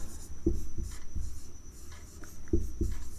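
Chalk or marker tapping and scratching across a board as a math teacher writes numbers for a cube-root lesson, a few sharp taps between short rubbing strokes, close and fairly loud with no speech.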